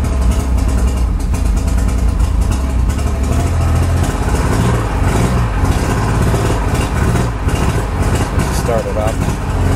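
A 1991 Mariner 75 HP outboard on a 1989 Spectrum Fish & Ski boat starting and idling, a loud, rough, steady rumble with a persistent low throb that holds through the whole stretch.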